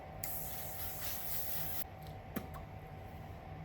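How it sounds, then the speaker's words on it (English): A steady fine mist of makeup setting spray hisses for about a second and a half, followed by a light click and quiet handling. "Last step is my makeup spray."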